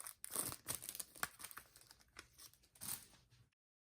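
Packaging of a CD single, type B edition, is opened up close with crinkling and tearing plastic in a few uneven bursts, and then the sound stops.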